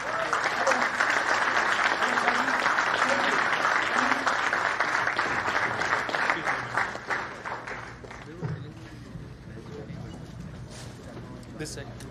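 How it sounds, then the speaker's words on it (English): A large audience at a community gala applauds the chief guest, an ambassador, with sustained dense clapping that gradually thins and fades, while a voice speaks faintly beneath it toward the end. "please give a round of applause to our chief guest"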